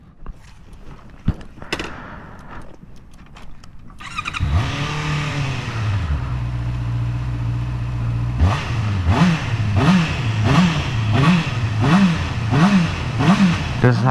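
A 2019 Honda CB650R motorcycle's inline engine starts up, then idles near the listener before a series of rhythmic revs rises and falls repeatedly.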